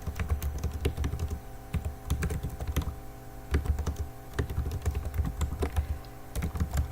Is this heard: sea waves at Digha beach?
no